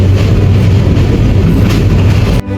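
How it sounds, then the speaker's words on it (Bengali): The Upaban Express night train leaving Dhaka for Sylhet produces a loud, steady low rumble heard from on board, broken off abruptly near the end. "রাত দশটায় আমাদের ট্রেন ঢাকা থেকে সিলেটের উদ্দেশ্যে ছেড়ে যাচ্ছে"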